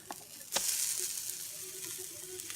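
An aubergine pancake sizzles in a frying pan, a bright continuous hiss with a sharp clack near the start as the pan or spatula is handled, no voices.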